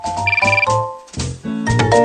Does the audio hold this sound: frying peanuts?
no